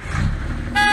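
An ATV horn in a video game sounds once near the end, a short loud bright tone over a steady engine hum.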